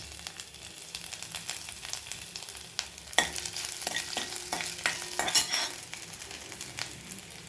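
Garlic and ginger frying in a little oil for momo filling, a steady close sizzle with scattered sharp clicks and scrapes of stirring against the pan, no voices.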